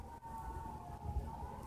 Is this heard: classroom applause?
no